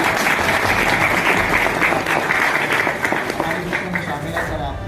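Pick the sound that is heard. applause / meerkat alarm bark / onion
applause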